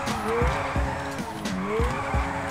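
Video-game car drifting in GTA 5 FiveM, its engine note rising and falling between loud, repeated tire squeals and skids, with sweeping pitch changes as the car slides in close, steady bursts.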